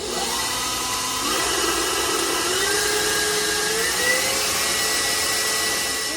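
Electric mixer running on high speed whipping meringue for a butterscotch pie, a steady loud motor whine with pitch shifts as the beaters work, alone without talk.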